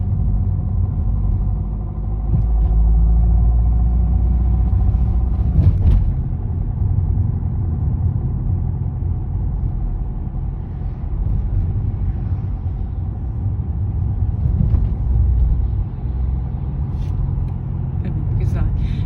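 Car engine rumbling and accelerating during a driving lesson on the road, a steady low drone heard from inside the cabin, with an instructor talking over it for much of the time.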